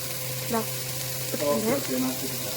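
Threadfin bream, sardines and prawns fry in a pan with a steady, close sizzle and crackle, while faint tonal voice sounds drift in the background.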